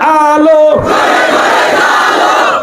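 After a preacher's amplified call ends, a large crowd at an outdoor Islamic religious gathering in Jessore shouts the takbir response in unison, a loud, sustained roar of many voices.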